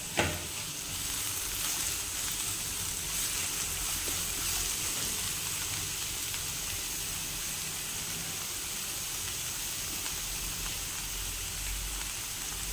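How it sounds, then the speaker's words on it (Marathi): Finely chopped tomato goes into a pan of onions fried until pink, with a steady, close, even sizzle of frying running throughout. "आता 1 टोमॅटो बारीक कापलेला घालते,"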